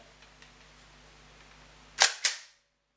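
A cheap plastic spring airsoft pump shotgun fires two sharp, snappy shots in quick succession at targets about five meters away, after a quiet stretch with faint background hum.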